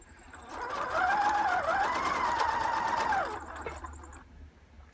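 A sewing machine runs continuously for a couple of seconds, stitching a straight seam in fabric for a pattern weight, its motor whirring and rising slightly in pitch before slowing to a stop, close and clear with a faint hum after.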